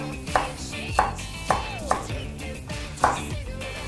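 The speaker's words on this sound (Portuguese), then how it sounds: "Vou cortar em julienne e depois em brunoise." Knife chopping food into julienne and brunoise for dobradinha: about six crisp, fairly loud board strikes in an uneven rhythm, heard alone.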